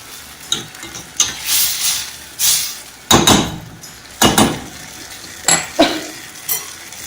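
Saved water goes into cooking maash daal to form a gravy, bringing loud bursts of sizzling and hissing with stirring scrapes and pot clinks in uneven pulses, close by and with no talking.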